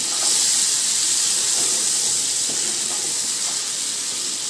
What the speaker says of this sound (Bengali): ওই তেলের মধ্যেই ওই ম্যারিনেট করা পনিরগুলোকে একটু জাস্ট হালকা করে ফ্রাই করে নেব।